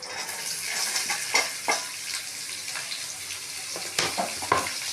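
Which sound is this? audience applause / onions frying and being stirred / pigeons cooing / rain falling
onions frying and being stirred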